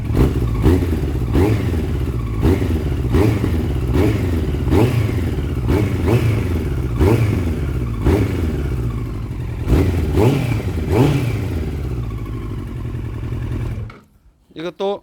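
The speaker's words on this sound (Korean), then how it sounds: "시동이 잘 걸립니다." A long-neglected Yamaha R1 sport motorcycle engine starts, idles and revs in repeated rhythmic surges, close and loud, then cuts off abruptly near the end.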